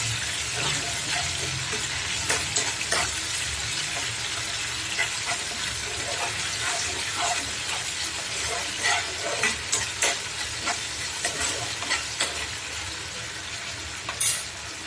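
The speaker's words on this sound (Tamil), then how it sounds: "இதெல்லாம் சேர்த்து நல்லா மிக்ஸ் பண்ணிக்கலாம்." A spoon scrapes and clinks steadily around a pan in a quick rhythm, stirring a tomato sauce mixture over a soft continuous sizzle, with no talking.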